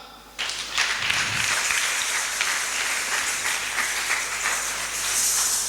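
An audience at a French-language church sermon bursts into sustained applause, a dense and even wash of many clapping hands that starts abruptly and holds steady throughout.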